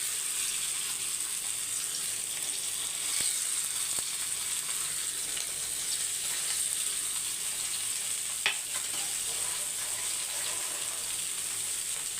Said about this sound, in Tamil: இப்போ மீன் வறுத்துக்கலாம் அதுக்கு தோசைக்கல் வச்சுருக்கேன்